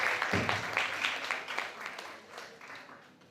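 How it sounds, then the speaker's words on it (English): An audience at an international public speaking workshop applauds speakers onto the stage, moderately distant clapping that starts full and gradually tapers off. "Let's give them a big round of applause as we welcome them to the stage."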